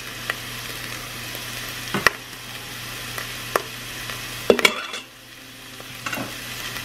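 Large garlic cloves cooking in an Instant Pot for a ground beef dinner, giving a steady close sizzle with occasional stirring clicks and one clatter before the sizzle briefly drops.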